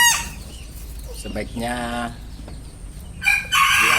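Domestic chickens kept at home, a rooster crowing in a rising harmonic call followed by louder clucking bursts near the end, with a brief spoken word and steady background noise.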